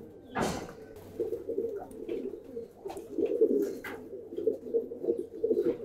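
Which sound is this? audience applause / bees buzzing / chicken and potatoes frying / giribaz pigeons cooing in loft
giribaz pigeons cooing in loft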